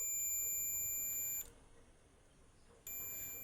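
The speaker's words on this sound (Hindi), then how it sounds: "देखो यहाँ पर बीप साउंड आ रहा है" Multimeter set to its buzzer continuity range beeps while probing a transformer's secondary winding in a tower home theater: a steady, high, thin electronic tone sounds for over a second, stops, then starts again, with no talk.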